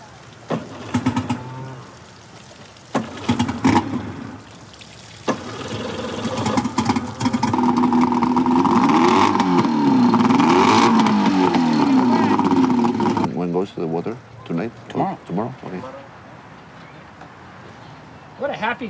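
A newly bought boat's engine idles, then revs up in a sustained rising and falling drone that dominates the middle stretch, with people talking before and after.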